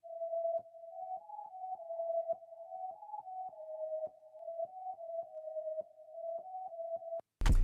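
Catchy top melody played on a soft synth in FL Studio over a beat's chords; a quiet, plucky line of short notes moves around a narrow range in a steady rhythm, soloed, then cuts off abruptly.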